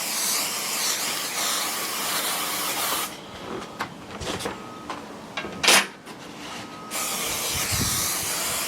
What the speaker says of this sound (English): I'm gluing this with spray mount.